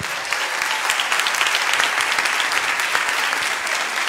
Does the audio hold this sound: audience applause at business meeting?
yes